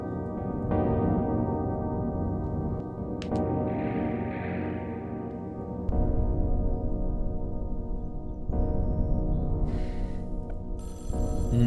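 In the horror video game Mothered, a telephone bell rings loudly and insistently in repeated bursts close up, filling the whole stretch without any voice over it.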